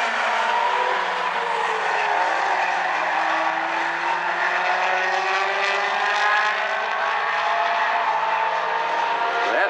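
Outlaw compact race cars, among them a Volkswagen Rabbit, roar around turns one and two at South Sound Speedway. Several engines whine together in a steady, loud, continuous drone that carries through the whole stretch.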